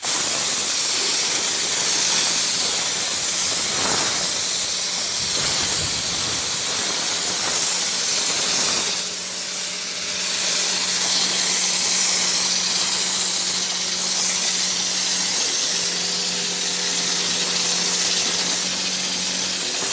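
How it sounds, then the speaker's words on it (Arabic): Spray gun spraying gelcoat onto a basin mould, a loud continuous pressurised hiss lasting the whole stretch, with a steady low compressor hum beneath and brief pauses in the spray. "نبدأ بعملية الرش"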